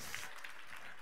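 A church congregation claps during a midweek Bible study service, a brief burst of dense, steady applause filling the room.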